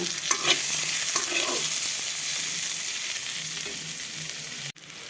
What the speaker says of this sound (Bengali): এর মধ্যে দিয়ে দিব পেঁয়াজ কুচি এখন এটা ভালো করে ভেজে নিব